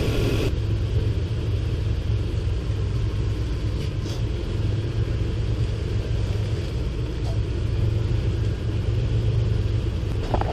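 A Toyota Tacoma with a 3.4L engine drives just after a power steering pump replacement, giving a continuous low road rumble and engine drone inside the cab, steady with no clear revving and no speech.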